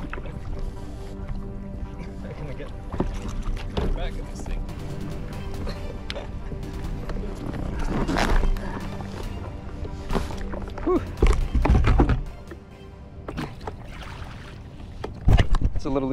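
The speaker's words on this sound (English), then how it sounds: "It's a little easier to paddle from the seat." Paddle strokes and water sloshing around an inflatable kayak on open water, with intermittent splashes, knocks against the hull and a couple of louder thumps over a continuous watery wash.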